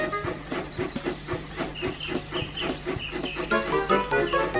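A steam railway engine labours up a steep hill, with steady hissing and a continuous rumbling chuff, regular puffs marking the rhythm and no talk over it.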